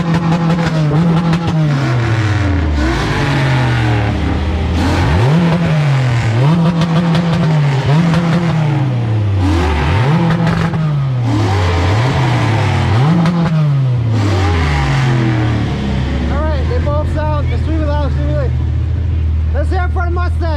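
A Ford Mustang and an Acura Integra revving hard in a loudness contest at a street takeover, engines bouncing off the limiter repeatedly, loud and close, with a crowd cheering and voices shouting over the engines.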